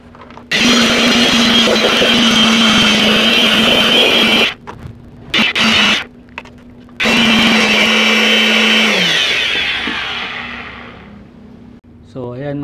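A loud, high-pitched electric air blower roars close by while drying a car's brake fluid reservoir, cutting out briefly in short bursts, then running again and winding down at the end.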